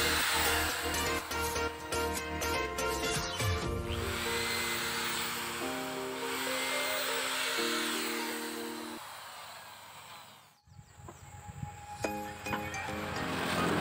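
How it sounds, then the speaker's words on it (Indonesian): A power drill bores holes in a wooden window frame, giving a loud, sustained whine that shifts in pitch across several passes, briefly stops, then starts up again. Other workshop noise runs underneath and no one speaks. "langkah kemudian kita bor untuk lubang pada korsen jendela"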